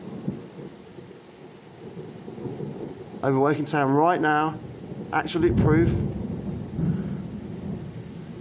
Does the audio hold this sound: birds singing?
no